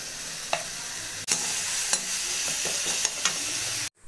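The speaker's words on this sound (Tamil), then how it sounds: "இப்போ இஞ்சி பூண்டு பேஸ்ட்டு போட்டுக்கலாம்." Ginger garlic paste frying in hot oil with softened onions, a close, continuous sizzle broken by sharp scrapes and taps of a stirring spoon against the pan before it cuts off abruptly.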